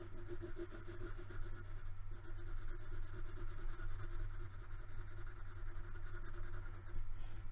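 Pen scratching back and forth on paper while shading in a diagram, a soft continuous rubbing over a low steady hum.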